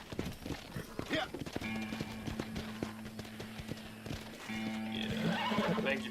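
A horse in the Red Dead Redemption video game whinnies near and loud, with hoof clip-clops and brief rustling around it, the neigh rising again toward the end.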